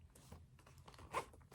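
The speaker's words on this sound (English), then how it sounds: "Then it has a zipper pocket here," A zipper slides open on a pocket of a Juicy Couture Soft Serve satchel, a short close rasp peaking briefly, heard alone.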